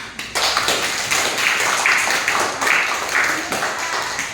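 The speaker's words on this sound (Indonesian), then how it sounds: "Kita beri tepuk tangan untuk kita semua." A classroom group claps together, a steady dense patter of many hands held at an even level for several seconds, with no talk over it.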